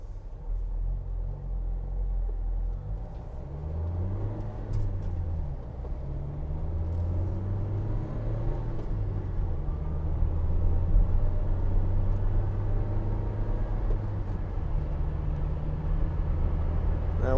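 A 2016 Vauxhall Vivaro 1.6 CDTi ecoFLEX BiTurbo diesel van driving along, with a steady low engine rumble and road noise heard from inside the cab, continuous and moderately loud.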